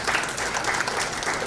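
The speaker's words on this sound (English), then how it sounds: "let's give a hand of applause for ourselves" Audience at an economics research workshop claps steadily, a dense, even wash of applause from a room full of participants that holds at constant loudness throughout.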